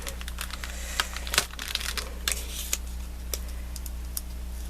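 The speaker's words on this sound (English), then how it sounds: "then I'm going to cut out my cardboard box and use that" Cardboard box being cut apart while making Christmas cards, with a series of sharp crinkling snips and crunches scattered irregularly over a steady low hum, close and moderately loud, no talking.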